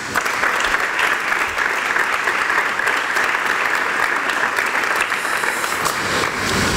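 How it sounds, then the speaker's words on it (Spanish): Dense, loud applause from an audience at a presentation event for a Costa del Sol espeto contest, continuous and even throughout with no voices standing out. "a todos ellos me gustaría que le diéramos un aplauso"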